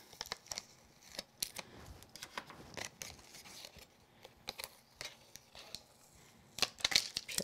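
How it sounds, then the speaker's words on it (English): Tape is peeled off cardstock in short, crinkly tearing bursts with small rustles and taps between them, close and quiet, with no talking. "Peel the tape up."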